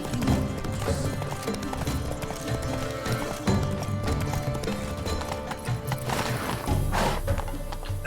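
Roach, a horse in The Witcher 3, gallops with steady clip-clopping hoofbeats under game music and ambience, with a short whinny-like burst near the end.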